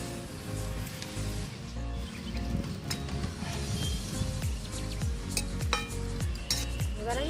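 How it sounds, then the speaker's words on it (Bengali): Green chilies, onion and drumstick leaves go into boiling water in a pot, with bubbling and a continuous stirring and clinking of a metal utensil against the pot. "আমি এবার ফুটন্ত জলের ভিতরে চিড়ে রাখা কাঁচা লঙ্কা আর কেটে রাখা পেঁয়াজ দিয়ে দেবো এবার দিয়ে দেবো ধুয়ে রাখা সজনে পাতাগুলো"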